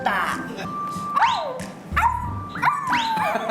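A man imitates a puppy on a television variety show, giving a string of high yips, whimpers and little barks in quick bursts, with other voices mixed around them.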